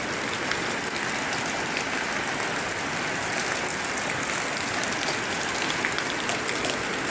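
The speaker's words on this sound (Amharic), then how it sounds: "ዝናብ እየጣለ ነው።" Rain falls steadily as a dense, even hiss of drops striking surfaces, continuous and fairly loud throughout, with no voices.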